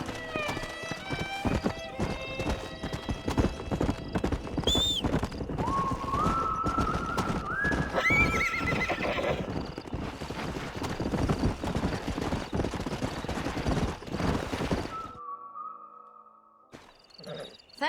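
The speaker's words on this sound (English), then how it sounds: "We got some fine horses." Horses in the Red Dead Redemption video game clip-clop in a busy rhythmic stream of hooves, with several loud neighs and whinnies rising over the trotting before it cuts to near silence and a distant call.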